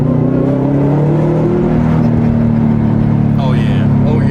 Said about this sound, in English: yeah, it sounds like a Subi now